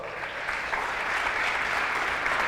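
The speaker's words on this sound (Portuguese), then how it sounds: "dá mais um aplauso aí" A church congregation breaks into applause during a service, a close, full wash of clapping that holds steady and swells slightly toward the end.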